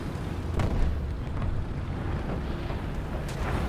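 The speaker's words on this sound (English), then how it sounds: "That's a bomb." A bomb explodes during a War Thunder tank battle: a deep, rumbling boom with heavy low-end roar that rolls on for several seconds, with a few sharper cracks scattered through it and no talking.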